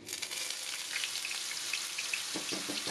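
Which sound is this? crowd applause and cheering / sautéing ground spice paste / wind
sautéing ground spice paste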